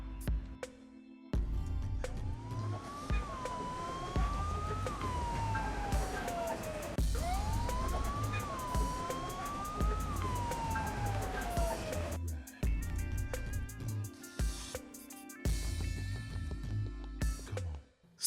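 Police sirens wail in repeated rising and falling sweeps over a rumbling street background, loud and close, with a second burst of harsher siren tones near the end.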